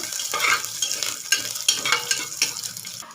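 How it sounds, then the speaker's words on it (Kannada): Onion and garlic frying in a pan, stirred with a spatula in several scraping strokes over a soft crackling sizzle, close and clear without speech. "ಈರುಳ್ಳಿ ಮತ್ತು ಬೆಳ್ಳುಳ್ಳಿ ಚೆನ್ನಾಗಿ ಫ್ರೈ ಮಾಡ್ಕೊಳ್ಳೋಣ"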